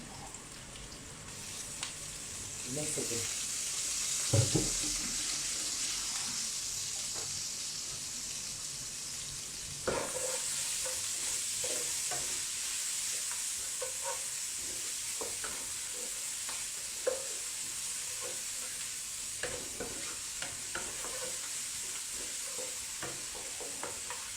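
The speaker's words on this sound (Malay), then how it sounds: "Okey, ini adalah bawang putih dan halia yang telah ditumbuk juga saya masukkan." Pounded garlic and ginger fry in a pan, a continuous hiss of hot oil with scattered scrapes and taps of stirring, fairly quiet and steady, no voices.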